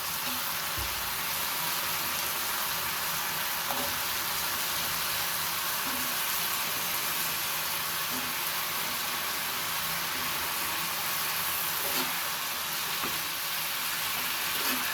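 Potato and water lily stems fry in a pan for an egg bhaji, giving a steady, close sizzle that crackles on without a break and without talk.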